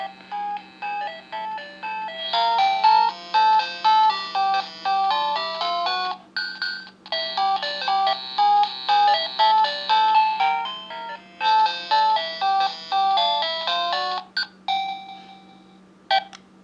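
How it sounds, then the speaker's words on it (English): A Paladone Game Boy alarm clock beeps out the opening bars of the Super Mario Land tune as a bright, chiptune-like melody. It plays in repeated phrases with short gaps and no talking. "So it plays the first few bars of the Super Mario Land tune."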